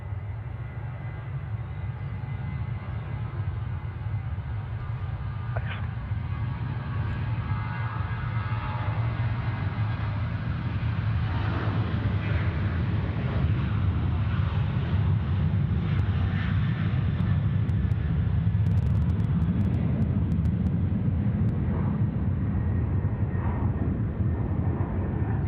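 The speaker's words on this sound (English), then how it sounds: "Runway 16 left, clear for takeoff" An airliner takes off from runway 16 left at Sydney Airport, its engines producing a steady, loud low-pitched roar that swells and holds for the whole stretch.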